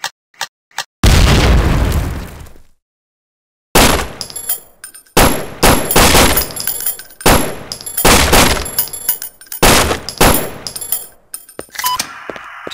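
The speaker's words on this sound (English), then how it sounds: "To detonate your breaching charge," Breaching charge detonating in the video game Sierra 7: a few sharp pops, then a heavy booming blast, a silence, and a long run of loud explosive bursts and gunfire-like bangs.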